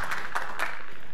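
A few sparse, scattered claps from a small workshop audience, three soft bursts in about a second against a quiet room background.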